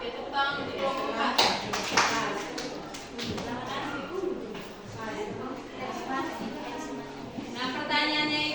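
Students in a high school class clap for a group after its presentation, a scattered round of applause with a teacher talking over it.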